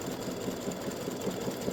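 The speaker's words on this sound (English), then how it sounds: "it's just doing the satin stitching around his wings" An embroidery machine satin-stitching bat-wing earrings runs at a steady, rapid mechanical chatter, close and moderately quiet, with no pauses.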